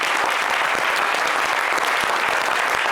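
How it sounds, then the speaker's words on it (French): Sustained applause from a standing studio audience saluting a departed music legend during a Showbuzz entertainment broadcast, steady dense clapping throughout with no voices on top. "on va se tenir debout pour acclamer comme il se doit la légende"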